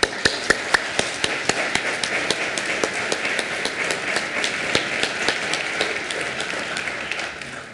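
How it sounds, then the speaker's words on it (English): Steady applause fills a state Senate chamber, many hands clapping in a dense, even wash with sharper individual claps standing out, sustained throughout at moderate distance. "I'd ask you to maybe give them a round of applause"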